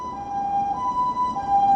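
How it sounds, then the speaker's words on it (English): An ambulance siren wails steadily at moderate distance, its tone holding and shifting slightly as it goes by, with low traffic rumble underneath. "there goes the ambulance."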